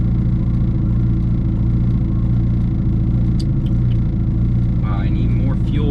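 A PT Cruiser race car engine drives in first gear, producing a loud, steady, close droning rumble with a faint whine and a brief chirp near the end.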